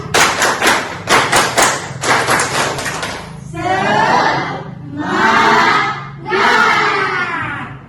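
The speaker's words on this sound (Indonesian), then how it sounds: "Tepuk semangat." Schoolchildren in a classroom clap in a rhythmic group pattern of quick claps, then break into loud shouted chants in three bursts.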